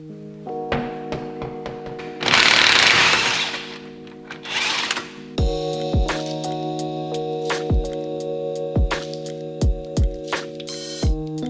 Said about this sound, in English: let's pop the wheel off, get the hub loosened up